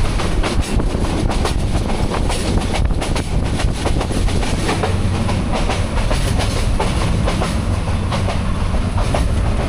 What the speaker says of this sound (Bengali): now I'm traveling journey by train